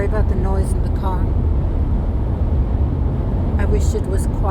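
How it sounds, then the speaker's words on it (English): Steady low rumble of road noise inside a moving car in snowy weather, loud and constant throughout, with a voice talking over it. "Sorry about the noise in the car."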